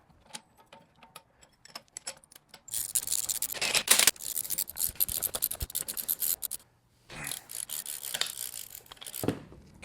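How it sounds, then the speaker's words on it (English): Spring compressor tightening on a BMW F30 strut spring, a series of close ratcheting clicks and metallic scraping bursts with short pauses between, moderately loud in a quiet workshop. "So let's compress the spring. Got our spring compressor here."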